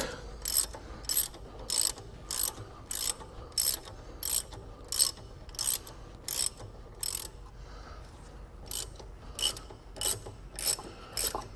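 A harmonic balancer being jacked off a Ford Mustang 5.0 engine with a puller tool produces a steady series of sharp metallic ratcheting clicks in a regular rhythm, close and fairly faint, with a brief pause partway through.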